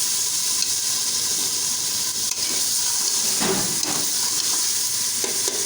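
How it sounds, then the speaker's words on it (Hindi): Garam masala stirred with a spoon into ginger chicken sizzling in a pan, a constant loud hiss with faint scraping strokes of the spoon and no voices. "अब इसमें मैं गरम मसाला जो मैंने आपको बताया था वो ऐड कर रही हूँ और इसको भी मैं चम्मच के साथ हिला लूँगी"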